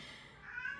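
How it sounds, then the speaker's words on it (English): A house cat gives a single short meow in a quiet indoor room, close and fairly soft, rising slightly toward the end. "oh, that's my cat meowing at me."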